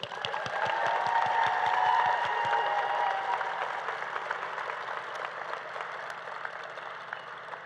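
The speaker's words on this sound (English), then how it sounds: "A big round of applause for the graduating class of" Audience applause at a 2024 college pinning ceremony for graduating radiography students: a dense, steady round of clapping from a large crowd, loudest early on and then gradually easing.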